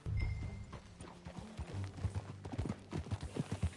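Horse hooves clip-clop in Red Dead Redemption II, a close, uneven run of soft thuds that quickens toward the end, heard alone without talk.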